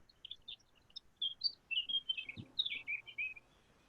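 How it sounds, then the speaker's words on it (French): Small birds chirping and tweeting in a rapid, irregular series of high, thin calls, faint and fairly distant over a quiet background. "J'entends des petits oiseaux là."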